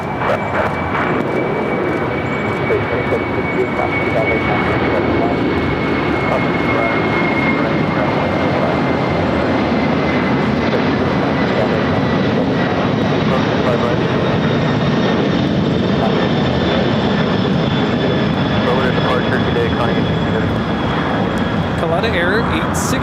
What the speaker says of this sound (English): Coletta Air 860 taking off to Anchorage on the 747-400 freighter